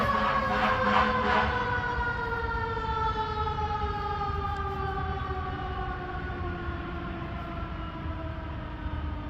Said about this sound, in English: There's sirens. I can't really hear you.